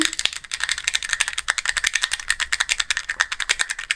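Rapid, continuous clicking of the small keys of a silent-version keyboard fidget toy, close and steady with a fast rhythm throughout.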